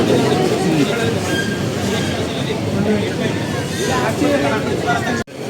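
Amrit Bharat Express train 17041 pulling out of Kottayam railway station, a steady rumble of rolling carriages with faint wheel squeal and platform noise, voices murmuring throughout, ending in a brief sharp knock.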